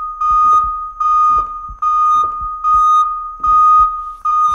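A loud, piercing alarm in the horror game Minds Eyes blares in repeated pulses about a second long, with thuds and rustles between the bursts.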